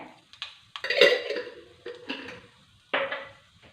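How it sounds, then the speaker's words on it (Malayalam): Mustard seeds dropped into hot oil in a pan while making moru curry: a series of sharp crackling spits and pops in separate bursts, close and fairly clear, with no talking. "ഇനി കടുകിടുവാണേ"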